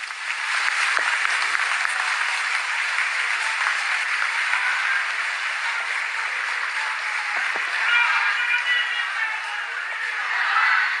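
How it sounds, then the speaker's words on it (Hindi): A large outdoor crowd at a political rally in Simdega applauds steadily, a loud dense wash of clapping that holds without a break for several seconds. "इतनी जोरदार तालियां बजनी चाहिए"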